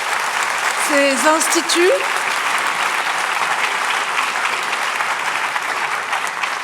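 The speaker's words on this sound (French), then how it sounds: "je pense qu'on peut applaudir chaleureusement" Sustained applause from a crowd, loud and dense throughout, with a brief spoken voice over it near the start.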